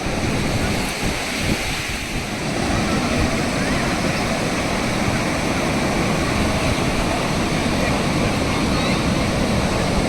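Sea waves roll in at Golden Beach in Puri, a continuous broad roar of surf with wind buffeting the microphone, loud and steady throughout.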